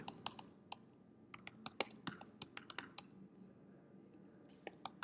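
Keys clack on a computer keyboard in irregular quick bursts, with short pauses between keystroke clusters, fairly close and quiet against a low background hum.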